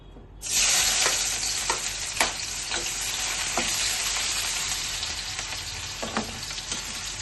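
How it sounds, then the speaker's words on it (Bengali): Sliced onions hit hot oil with a sudden loud sizzle that settles into steady, close frying, broken by a few clinks and scrapes of a utensil stirring. "তো পেঁয়াজটা আমি আজকে একটু ভেজে নেবো, ভেজে সেটাকে তুলে আমি পেস্ট করবো।"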